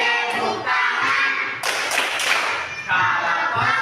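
In a classroom, children clap their hands in a short burst of rhythmic claps while they sing a cheerful song in unison, the clapping bright and loud over the voices.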